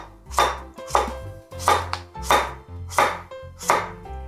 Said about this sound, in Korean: 양쪽 끝을 잘라주시고 동글동글하게 썰어주세요.